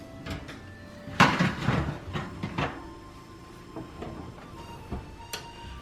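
A perforated baguette pan of French bread being set back into an oven, giving a few metallic clanks and a rack-sliding clatter followed by quieter handling knocks, close and fairly soft.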